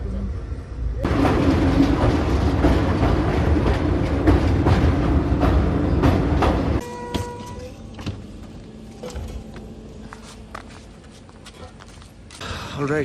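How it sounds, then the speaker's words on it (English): Inside a passenger train in India on an overnight run, a loud steady rumble with rhythmic clatter fills the carriage, quieting to a softer running noise partway through, with voices faintly underneath. "This train will leave in a couple of minutes."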